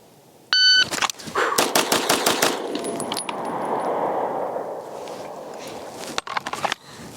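A Dan Wesson DWX pistol fires a fast string of about seven loud shots in an even rhythm after a short electronic beep. The echo fades, and then a few more quick shots crack near the end.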